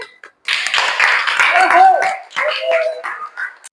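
Students in an Islamic junior high school Arabic class clap their hands together in a short, lively burst of applause, mixed with voices and brief vocal cheers that fade after a few seconds.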